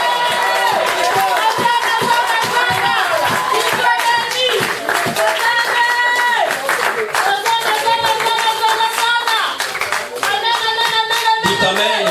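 A church congregation claps and cheers during a French-language sermon, a loud, steady wash of rhythmic hand claps and voices that continues throughout with music-like tones over it.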